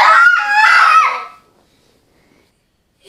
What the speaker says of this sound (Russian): Вот чайки.